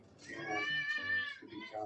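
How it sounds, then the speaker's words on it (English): A cat gives one drawn-out, wavering meow, close and clear, with a short second cry near the end. "That's a cat."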